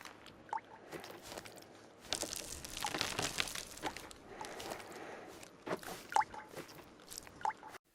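Cave ambience in the Cave Crave VR game: quiet water drips plinking at intervals over soft, shuffling footsteps that scrape and crunch along a rocky floor, faint and close with no voices.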